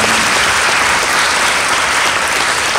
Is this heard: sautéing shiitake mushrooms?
no